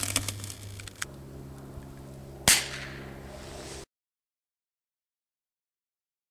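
A Goblin Deuce double-barrel airsoft handgun fires a 6mm BB, giving one sharp, loud crack that dies away quickly against a quiet background.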